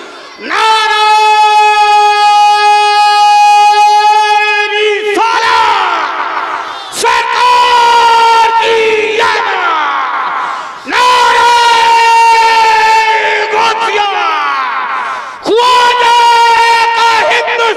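A religious gathering's crowd chants loudly in response to a Nara-e-Takbir call, with a single sustained voice leading first, then a mass of voices answering in several powerful, roaring bursts.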